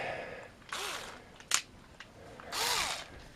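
A power screwdriver unscrews a PC power supply in two short whirring bursts, with a sharp click between them, close up and alone.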